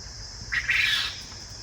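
Pigeons in a hardware-cloth coop in the morning give a short, sharp squawk, a brief burst of calling that rises out of quiet coop background.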